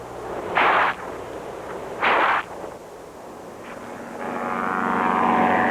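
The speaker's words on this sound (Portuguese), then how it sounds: "O avião pousa perto" After two brief raspy grasshopper bursts, a small plane's engine drone rises and grows steadily louder as it comes in to land in Africa, a continuous propeller hum building toward the end.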